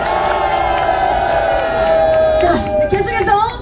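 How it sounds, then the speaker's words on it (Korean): A loud rally crowd at an impeachment-dismissal gathering cheers and shouts in a sustained roar of many voices, with whoops rising near the end. "여러분들 박수 한 번 더 크게 보내주시면 고맙겠습니다"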